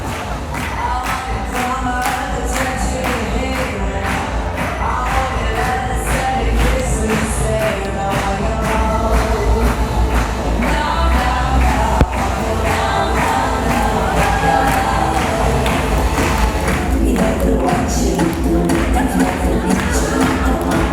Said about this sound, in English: Clap your hands in the audience,